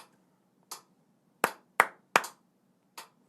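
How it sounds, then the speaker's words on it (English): Hands clap out a syncopated guitar-riff rhythm from a song, six sharp, close, dry claps with uneven spacing, including a quick pair and a trio, in an otherwise quiet room. "try to clap the rhythm from beats 1 all the way through 6"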